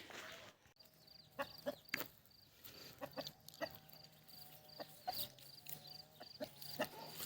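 Chickens cluck and squawk in short, scattered bursts outdoors, fairly faint, with a low rural background hum and no talking.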